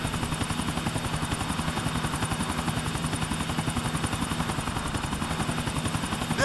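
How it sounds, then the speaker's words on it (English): A video game helicopter's rotor thumps in a fast, steady rhythm, moderately distant and continuous, with a faint engine whine overhead, in Grand Theft Auto IV. "There be the other chopper."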